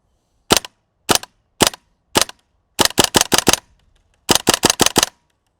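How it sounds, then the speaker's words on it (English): Airsoft gun shooting outdoors: four single sharp cracks, then two quick full-auto bursts of about five rapid shots each, loud and close with silence between. "Let's try some full auto."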